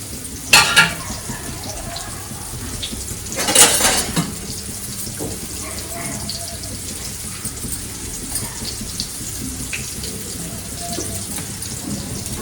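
Curry leaves dropped into hot oil with frying tuna, giving two sharp bursts of crackling sizzle early on, then a steady low fry with faint utensil clinks and stirring.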